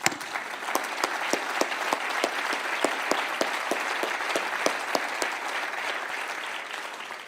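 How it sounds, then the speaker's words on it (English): An audience applauds steadily at a talk on antisemitism. The crowd claps densely and evenly, with sharp individual claps punctuating the even wash throughout. "So let's give a set of applause."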